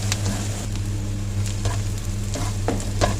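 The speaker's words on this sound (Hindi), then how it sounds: "बिल्कुल छोटा सा प्याज मैंने लिया है और इसको हमने सौते कर लेना है।" Chopped onion sautés in oil for a cheese and chicken bread snack, with a steady close sizzle and repeated spoon-stirring scrapes, no voices.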